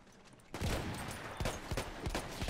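Gunfire in the World War I shooter Battlefield 1 during a multiplayer match: a dense, loud fusillade of overlapping shots and booms erupts after a quieter start and keeps going with sharp repeated cracks.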